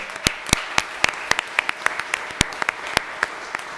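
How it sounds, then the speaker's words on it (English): Applause at a city council meeting honoring committee members: a modest group claps with sharp, separate hand strikes standing out over a softer bed of clapping, steady for several seconds. "Can we give them a round of applause?"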